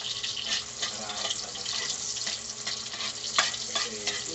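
Garlic and onion sautéing in a pan for kaldereta, a steady close sizzle with scraping stirs and clatter throughout, no talking.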